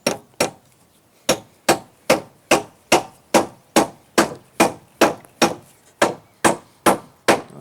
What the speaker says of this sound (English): Now to fix our ceiling joist, I'll use one 100mm nail down into the wall plate.